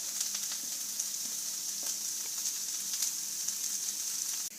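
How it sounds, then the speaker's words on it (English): Celery sauteing in olive oil for venison stew, a steady bright sizzle with scattered small pops running evenly throughout, close and alone. "I've been sauteing the celery in olive oil"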